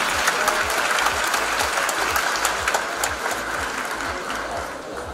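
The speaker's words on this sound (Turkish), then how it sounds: "alkışlarınızla sahneye davet ediyorum." Dense, steady audience applause at a startup summit in Ankara as panelists are welcomed on stage, continuous clapping from a large crowd at even loudness throughout.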